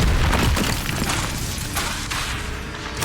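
An Incendio fire spell blasts in the video game Hogwarts Legacy, a booming, roaring burst that starts loud and fades into a dense rumble over about three seconds.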